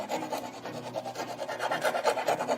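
Sandpaper rubbed quickly back and forth over a concrete stair tread, a close, brisk series of raspy strokes in a steady rhythm.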